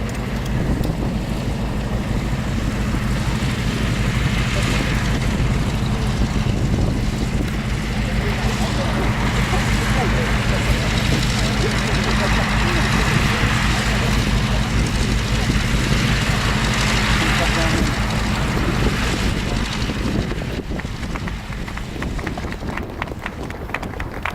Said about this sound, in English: what a magnificent sight to see this just tremendous aircraft taxiing towards us